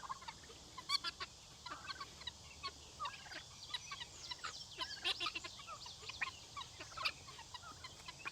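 Turkeys on a farm cluck softly in scattered short calls, with several birds chattering on and off at a modest distance over quiet background noise.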